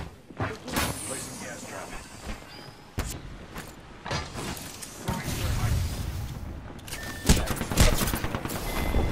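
Gunfire from Apex Legends striking the player's character, bursts of rapid shots and impacts scattered across the clip, fairly close, mixed with game sounds and players talking.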